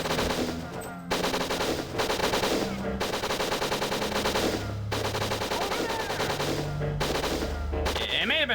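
Rapid bursts of enemy machine-gun fire and gunshots from the N64 game WinBack, crackling in repeated volleys with brief gaps, loud and close throughout, over a steady game soundtrack.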